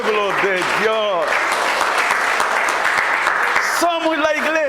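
Church congregation clapping steadily in a packed room, rhythmic applause under a voice that sings or calls out at the start and again at the end.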